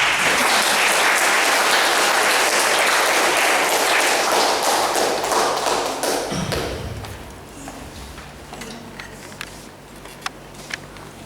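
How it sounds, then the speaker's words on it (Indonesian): Audience applauding at a graduation event, a dense round of clapping that fades out around the midpoint, leaving a few scattered claps and a light thump in a quieter room. "Tepuk tangan dong."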